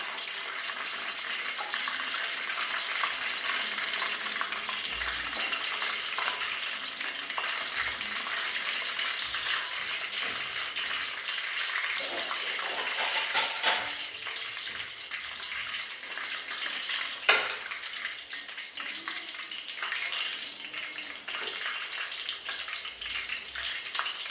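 Batter-dipped pieces of a homemade mock chicken-leg snack deep-fry in a pan of oil, giving a long, even sizzle with frequent crackles and a couple of louder spits, close up and uninterrupted by speech.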